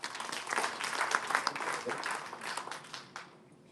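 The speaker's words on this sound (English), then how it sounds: "So a big round of applause to all the donors." Guests at a scholars' annual dinner applaud the donors, a lively burst of clapping with brief crowd murmurs that swells and then tapers off toward the end.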